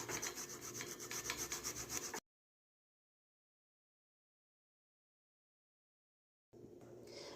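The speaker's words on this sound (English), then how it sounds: "I'm just going to go ahead and use a small grater and just simply grate it" Garlic is rubbed over a small grater in close, scratchy rasping strokes, heard in a two-second burst and then again briefly after a silent gap.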